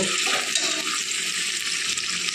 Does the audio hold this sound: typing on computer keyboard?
no